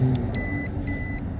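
Two short electronic beeps from an RC car's speed controller, a 1/14 Typhon GROM BLX, sound in quick succession, close and clear over a low mechanical hum.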